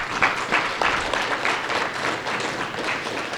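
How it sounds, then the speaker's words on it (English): Audience applause at a welcome session, steady clapping from a room of people filling the whole few seconds at a moderate, even level. "Can we all give them a huge round of applause?"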